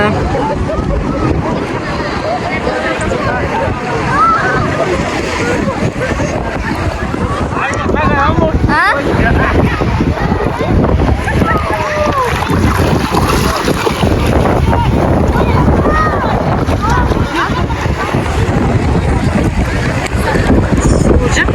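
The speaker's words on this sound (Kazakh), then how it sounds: "Жел ақырындап басып келе жатыр." Steady, strong wind roars across the microphone on the shore of Lake Alakol, with water and faint voices underneath throughout.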